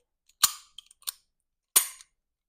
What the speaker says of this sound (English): I can pull the trigger. So you have that positive click.